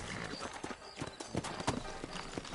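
Horse hooves clip-clop steadily in Red Dead Redemption, a close, rhythmic trot of repeated hoofbeats with a faint whinny woven into the game's ambient backdrop.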